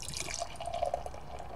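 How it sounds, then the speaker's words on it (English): Altamont Hop'n On The 1 IPA being poured into a tulip glass, a short soft trickle and splash of liquid, close and fairly quiet. "Pour in the glass."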